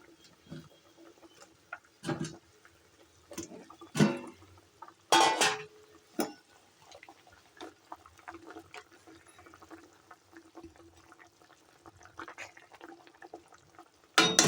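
Pieces of bhetki fish spit and crackle in hot oil in a curry pan, soft irregular sizzling with sharp pops and spatters now and then, fairly quiet and close.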